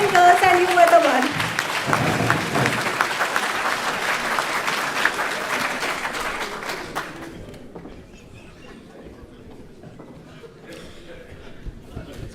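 An audience at a Silver Jubilee school reunion for the class of 1999 bursts into loud, dense applause that fades out after about seven seconds, leaving quieter room noise with a little talk.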